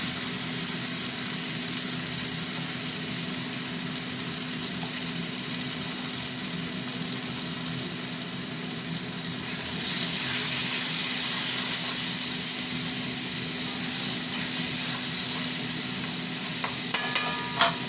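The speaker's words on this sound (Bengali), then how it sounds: "এখন এই তেলটা দিয়ে দিলাম পেঁয়াজের সাথে।" Steady frying hiss of onions in hot oil, continuous and even, growing slightly louder partway through with a low hum beneath.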